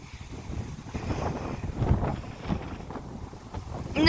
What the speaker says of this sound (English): Oh my days, it is very windy in Wales today.